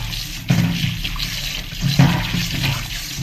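Water from washing chicken drains away in a steady gurgling rush, close and fairly loud, with two sharper splashy surges along the way and no speech.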